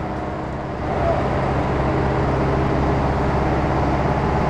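A 1985 Dina Olímpico bus engine runs in a steady, dense diesel drone, its level rising after about a second and then holding constant, with no talk over it.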